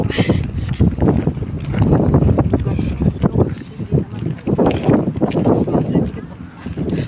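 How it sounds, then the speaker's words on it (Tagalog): Wind rumbles against the microphone in gusty low bursts while people talk nearby outdoors. "Uy, ang sarap ng hangin."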